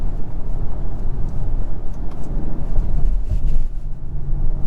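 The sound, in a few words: Acura TLX Type S engine, exhaust pops on gear shifts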